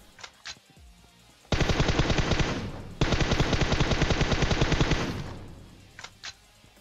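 Two loud, sustained bursts of rapid machine gun fire in PUBG, back to back, close and continuous, then fading, with a few faint clicks before and after.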